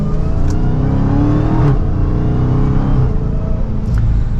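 A Dodge Charger SRT Hellcat Widebody accelerates hard from second gear, its engine roaring loud and steady from inside the cabin, with the note rising and a couple of brief shift breaks.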